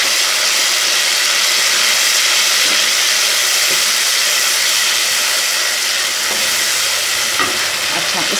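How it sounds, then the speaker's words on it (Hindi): Cooking sounds from a pot of rice and garlic curry as tomato paste is stirred in with a spoon: a steady broadband sizzle and hiss throughout, with a few faint scraping clinks near the end. "चम्मच हिलाएंगे।"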